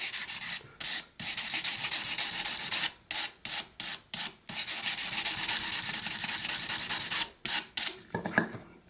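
A whittling knife is stroked back and forth over sandpaper in a steady rhythm of rasping rubs, close and fairly loud, broken by short pauses between passes.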